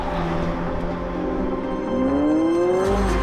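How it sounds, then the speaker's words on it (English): McLaren 750S supercar with a higher-boost turbocharged engine, new fuel pump and new exhaust: a loud, steady engine drone near the microphone, a rising whistle sweeping upward through the second half as revs climb, no talking. "You get this combination of the turbo whistles and this new exhaust that absolutely slaps."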